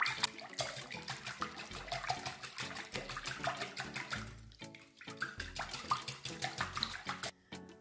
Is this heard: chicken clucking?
no